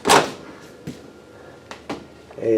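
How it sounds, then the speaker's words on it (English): A thump as a self-closing drawer shuts in a 2025 Riverstone Legacy 421FK fifth-wheel RV, then a couple of soft knocks and a final muted closing sound, close by in a quiet room. "All the drawers are self-close, of course."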